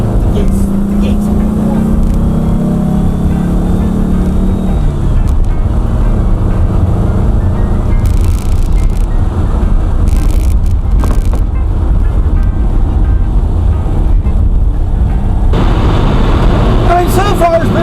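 An old Porsche, back on the road after about 30 years, drives on a test run with a steady loud engine and road rumble throughout, with shifting engine tones and a voice talking over it.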